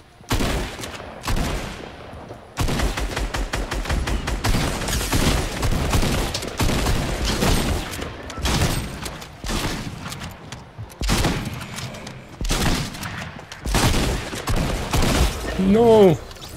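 Tactical shotgun fire in the Fortnite video game, with loud dense bursts of rapid gunshots in repeated volleys and brief gaps between them, mixed with other game sounds and voices.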